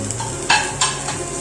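Chopped onion, tomato and green chili fry in a pan with a steady sizzle, broken by two brief scraping stirs.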